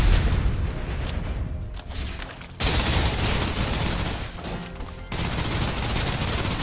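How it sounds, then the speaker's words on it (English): Sustained suppressive gunfire in the shooter game Snowbreak: dense, loud volleys of rapid shots with booming impacts, continuous apart from two brief drops in intensity. "Suppressive fire."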